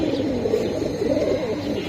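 Pigeons coo in soft, repeated low warbling calls close by, overlapping continuously through the short stretch with no voices.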